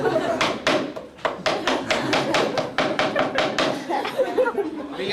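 Rapid, loud hammer blows strike a liquid-nitrogen-frozen object, about twenty sharp knocks in an irregular burst with brief pauses, close and dominant, with faint chatter behind.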